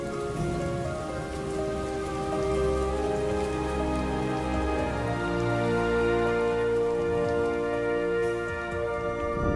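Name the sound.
rain falling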